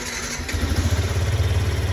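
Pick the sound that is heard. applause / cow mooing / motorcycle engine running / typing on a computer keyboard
motorcycle engine running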